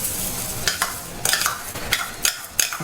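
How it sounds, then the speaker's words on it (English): Rice stirred and sautéed with other ingredients in a pan for arroz con gandules, a Latin Easter dish, giving a close steady sizzle broken by several scraping stirs of the spoon, with no talking. "All of this gets sauteed together."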